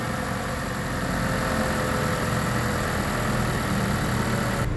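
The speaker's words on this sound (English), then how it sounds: "Okay, shot of the motor with it running." A 2017 Mazda3 engine idles with the hood open, a steady close-up mechanical hum and whir that holds an even level throughout with no revving.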